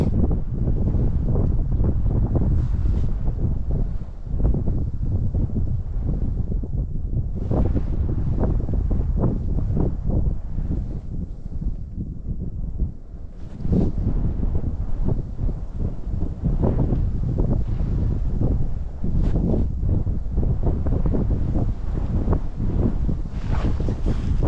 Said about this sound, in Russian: Пурга такая. Вот это я называю пурга.